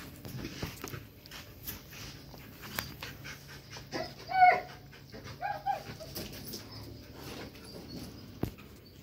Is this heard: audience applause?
no